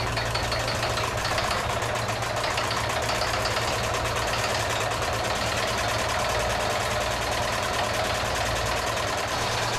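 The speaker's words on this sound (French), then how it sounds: "comme le démarrage de ce générateur" A generator aboard a wooden pinisi boat in Indonesia running steadily, a loud, constant mid-pitched engine drone with a rhythmic knocking pulse throughout and no voices.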